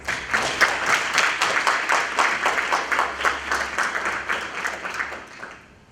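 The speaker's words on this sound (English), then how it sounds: "So quick round of applause." Audience at a university leadership speaker event giving a brief round of applause, dense steady clapping from a room of people that fades out toward the end.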